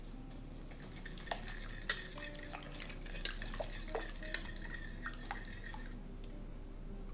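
Sourdough starter and water being stirred with a Danish dough whisk in a bowl, giving a steady wet churning with several sharp clinks and taps against the bowl throughout.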